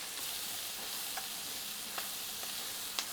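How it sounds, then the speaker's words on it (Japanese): Flour being stir-fried in a pan for a chicken cream stew, a steady faint sizzle with a few soft spoon scrapes scattered across the pan. "粉をしっかり炒めてあげて、粉っぽさがなくなったら先ほどのお肉を戻します。"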